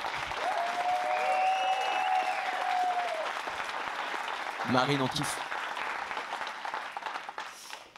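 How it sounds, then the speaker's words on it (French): A conference audience applauds Marine, with steady dense clapping throughout, a voice speaking over it briefly, and the clapping thinning toward the end. "je voudrais qu'on l'applaudisse"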